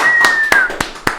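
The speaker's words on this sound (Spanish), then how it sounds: "¡Aplauso, producción!" A few people on a podcast production crew clap in sparse, separate, sharp hits, about four claps spaced roughly a quarter second apart, close and clear, with a thin whistle-like tone at the start.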